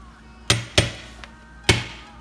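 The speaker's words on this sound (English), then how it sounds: "So let me get my hammer. Let's try to loosen this top off." A hammer taps a dirt bike carburetor top to loosen it, giving three sharp metallic strikes and one lighter tap, close and loud, each ringing briefly.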